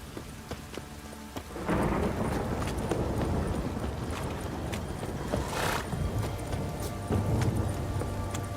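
A horse galloping in The Witcher 3 video game, a steady rapid drumming of hooves that starts abruptly and continues loud and unbroken, with a rushing, rumbling wash behind it.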